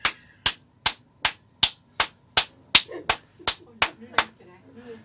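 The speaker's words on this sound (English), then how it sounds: "Please clap the amount of corresponding to your selected floor." A quick run of about eleven crisp, close hand claps in a fast, even rhythm to choose a floor in a clap-controlled elevator, with a brief voice underneath near the end.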